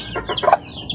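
Hens cluck and chicks cheep close by in a brief, busy burst of short calls, with no talk.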